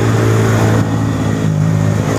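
A motorcycle riding just ahead on the road roars through a loud aftermarket exhaust with a steady, throbbing drone that dips briefly and swells again.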